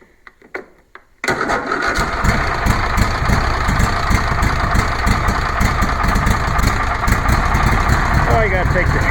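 Small engine with the choke on sputters through a few brief pulls, then catches and runs steadily at a loud, busy idle, close to the microphone.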